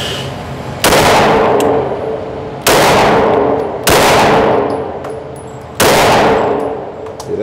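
A Polymer80 pistol fired at a target outdoors, four loud, sharp reports at irregular intervals, each followed by a long ringing decay, with no talk between them.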